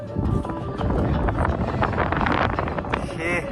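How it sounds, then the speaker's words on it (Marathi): Cool wind blowing across the open viewpoint at Jatayu Earth Centre, a continuous rough rumble buffeting the microphone, loud and steady throughout, with a voice speaking over it. "गार वारं सुटलंय असं मस्त"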